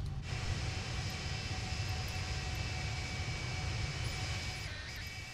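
Korean Air Boeing 747-8i jet airliner in a flight simulator game, passing overhead on approach to Heathrow: a steady, loud engine roar and whine held throughout, with no talk.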